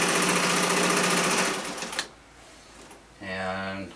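A National Model 750 flatbed portable sewing machine stitches with a fast, loud, steady whirring hum for about two seconds, then stops, followed by a short stretch of voice.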